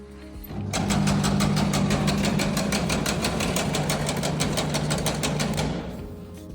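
An STvega Dicer industrial machine cutting dried mango runs for about five seconds, a loud, close, steady motor drone with rapid rhythmic chopping pulses, starting abruptly and winding down at the end.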